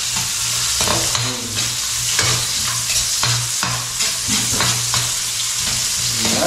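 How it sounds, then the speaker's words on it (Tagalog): Onions sizzle steadily in a hot pan while being stirred, with repeated scraping strokes of a utensil over a continuous frying hiss, close and fairly loud throughout. "At syempre, lagay na rin po natin ang sibuyas."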